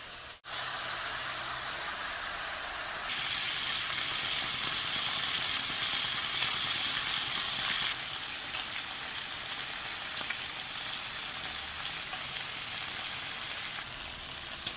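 Beef flanken short ribs fry in a hot pan with juice poured in. A steady, close sizzle brightens and grows louder as the liquid hits, then settles back into continuous frying with no talk.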